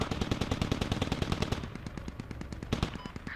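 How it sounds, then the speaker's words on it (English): Rapid automatic gunfire in the military shooter game Squad: dense bursts of shots, loud and continuous at first, then thinning to scattered, more distant-sounding rounds. "Yeah, I'm taking fire."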